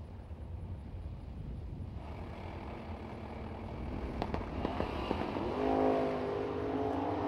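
A drag racing car launches into a wheel stand at The Million, a distant engine rumble under wind noise that builds into a harder, louder roar in the second half of the run.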